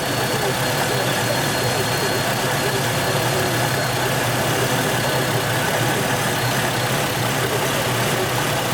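A GM car engine with variable valve timing faults idles steadily throughout, a continuous low rumble with a slight uneven knock, close and fairly loud with no other sounds over it.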